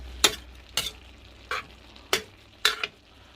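Spicy eel curry with holy basil leaves stir-fried in a pan, with five sharp scraping stirs at a steady pace over a low sizzle, close and loud.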